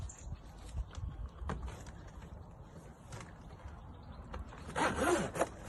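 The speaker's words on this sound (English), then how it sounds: "you wrap it round the tree like so, zip it up from the bottom upwards." Zipping up a tree hydration bag wrapped around a tree trunk outdoors, a few short scratchy zipper runs with a louder, longer zip near the end over light background rumble.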